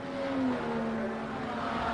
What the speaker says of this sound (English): there is car number 2, Pistorius, down the back straight